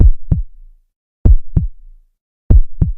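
A heartbeat sound effect under horror narration: three loud, close lub-dub double thumps, evenly spaced with silent gaps between, deep and booming.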